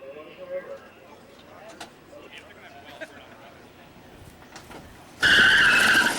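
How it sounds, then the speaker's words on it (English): Electric drag race car doing a tire burnout at a 1999 NEDRA electric drag racing event: after a stretch of quiet crowd murmur and scattered noises, a sudden loud, sustained tire squeal bursts in near the end. "Okay, watch this burnout, Lou."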